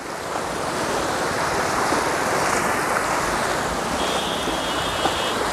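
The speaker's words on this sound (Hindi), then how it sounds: "ये दूसरी लहर है, बाढ़ का दूसरी लहर है।" Floodwater waves surging through a flooded area near a temple and submerged Ashoka pillar, a steady broad rushing wash with no voices, heard close and fairly loud.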